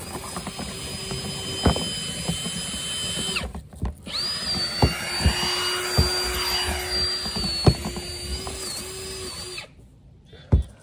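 A high-pitched dryer vent cleaning tool whirs and roars in long bursts, cutting off briefly between runs, with occasional knocks and clunks against it.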